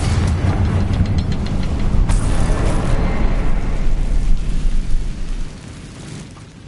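Confringo fire-spell blast in Hogwarts Legacy, a loud rumbling explosion with crackling bursts that hold for several seconds before fading out.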